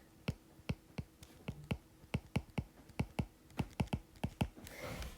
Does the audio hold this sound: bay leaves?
no